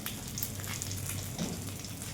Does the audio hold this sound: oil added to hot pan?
yes